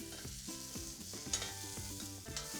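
Asparagus spears sizzle and crackle steadily in a hot pan as they are flipped, with a faint scrape partway through and a continuous frying hiss throughout, no voices.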